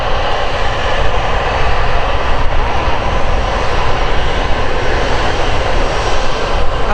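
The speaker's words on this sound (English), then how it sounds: "the Tui 7879 Dreamliner just lining up on the runway to start its flight to Cancun" A TUI Boeing 787-9 Dreamliner lines up on the runway at Manchester Airport, its jet engines producing a loud, constant broadband roar heard alone for the whole stretch.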